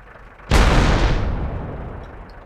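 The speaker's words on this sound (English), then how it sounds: "that AMX-50 is just like shot after shot" A single heavy AMX-50 tank cannon shot in a World of Tanks battle, a sudden loud boom that rolls off into a long, slowly fading rumble.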